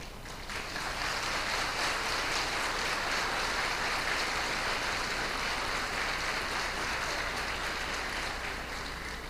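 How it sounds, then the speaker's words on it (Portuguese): An audience applauds a choir and its conductor in a steady, dense wash of clapping that holds evenly for about nine seconds, with no voices over it. "agora eu peço, aplaudam o coral, o maestro."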